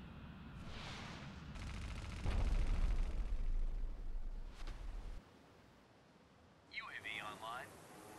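Explosions and gunfire in the naval combat game Warships Mobile: a loud burst of rumbling blasts and rattling fire swells, then cuts off. Electronic game effects and chirps follow.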